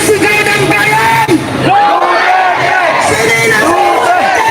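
A large Filipino crowd chanting "Duterte" shouts and yells loudly in overlapping waves, voices rising and falling continuously with a dense roar of babble underneath.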